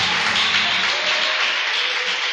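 A church congregation applauds during a worship service, giving a dense, steady wash of many hands clapping together at close range for the whole stretch.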